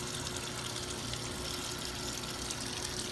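A Giantex portable compact full-automatic washing machine fills with water in a steady, even rush that runs unbroken throughout, close and fairly loud, with no talking.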